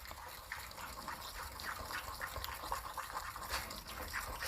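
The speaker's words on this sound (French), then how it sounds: "Je touille pour que ça se mélange bien" Chocolate cake batter with a little milk added being stirred with a spoon, giving soft, wet, rhythmic swishing and faint dabs, quiet and close, with no voice.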